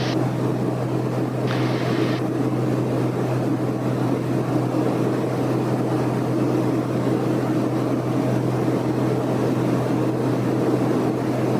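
A small aircraft engine drones steadily at 2,500 RPM in flight, a loud continuous hum and propeller buzz that stays constant from start to finish with no speech.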